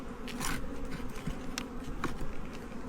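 Honey bees buzz steadily around an opened hive at a backyard apiary, a dense close swarm hum with brief individual bees whizzing past the microphone, no talk.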